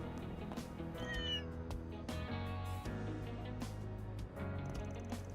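A cat in the video game Trails through Daybreak II lets out a couple of clear, drawn-out meows over bright, busy game music, close and prominent.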